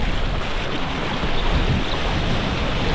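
Ocean surf off Bali while waiting for a wave, a continuous broad rush of water with wind buffeting the microphone, loud and close with no voices.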